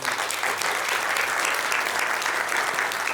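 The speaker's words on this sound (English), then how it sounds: "A big applause." Seminar audience in Göteborg breaks into loud, sustained applause for a speaker, dense clapping filling the room evenly from start to end with a low hum underneath.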